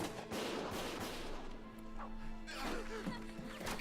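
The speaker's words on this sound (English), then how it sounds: "Gunfire!" Gunfire crackles through a Valkyria Chronicles battle scene, with rapid bursts and sharp impacts mixed with game sounds and shouted voices over a dense background.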